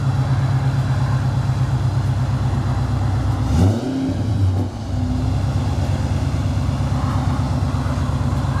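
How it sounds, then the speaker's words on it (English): Supercharged V8 of a 2007 Ford Mustang Shelby GT500 with a catback exhaust, a deep steady burble that swells into one short rev near the middle before settling back to idle. "See, this is a car that needed a catback exhaust. Too quiet from factory for a supercharged V8."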